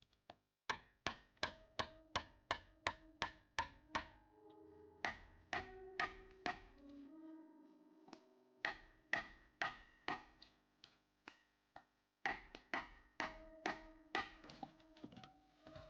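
Axe with a wooden handle chopping into a giant log to carve a wooden water trough in the wilderness; a long run of sharp, regular thwacks, near and loud, with a short pause midway before steady chopping resumes.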